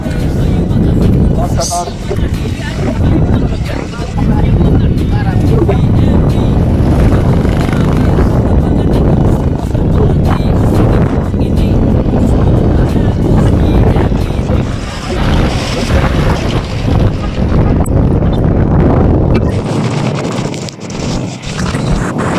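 Strong wind roars and buffets the microphone continuously at high volume on a windy, rainless day in Bicol, a dense rumbling rush with gusty surges and scattered faint sounds beneath.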